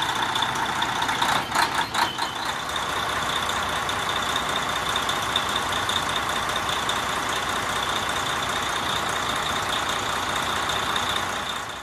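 A black truck's engine runs at a steady idle throughout, loud and close, with a brief burst of rattling clicks near the start and no talking.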